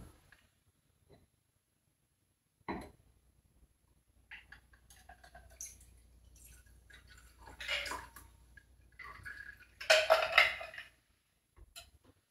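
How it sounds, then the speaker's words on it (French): A blue Eclipse drink being poured into a glass in a quiet room, with scattered faint clinks, then a short trickling pour and a louder splash near the end. "On verse le tout maintenant dans notre verre."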